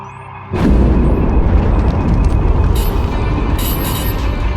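Omni cannons in the SWTOR video game open fire on a capital ship: a sudden loud boom, then a sustained heavy roar of blasts and rumbling that continues to the end.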